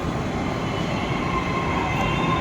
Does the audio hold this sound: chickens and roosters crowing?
no